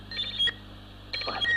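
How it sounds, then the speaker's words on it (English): An electronic alarm signal sound effect in an old South African reel-to-reel radio drama, two short bursts of shrill warbling beeps separated by a brief pause over faint tape hiss. "By George, that's my alarm signal."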